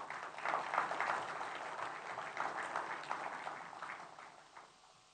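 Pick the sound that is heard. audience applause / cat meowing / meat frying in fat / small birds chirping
audience applause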